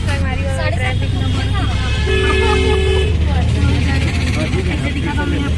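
Road traffic rumbles loudly and steadily, with car and bus horns honking several times in short toots and one longer blast, while someone talks over the noise.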